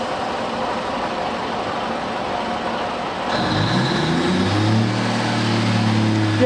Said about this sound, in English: I think that's my train